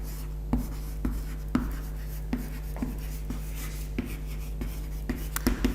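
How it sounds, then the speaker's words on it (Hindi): Chalk or marker writing names on a classroom board makes scratchy rubbing strokes with sharp taps as each letter starts, steady and close throughout a lecture. "तो मैं नाम लिख दे रहा हूं यहां पे"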